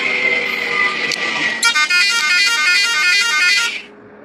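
A loud, sustained bus horn in the Bus Simulator Ultimate video game, one long buzzing tone that swells after a moment and then cuts off, heard with no talk over it.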